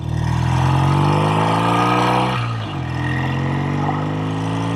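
A vintage 1969 BSA Thunderbolt 650 motorcycle riding down the road: a loud, close, steady engine drone that briefly dips during a gear change midway, then pulls on evenly.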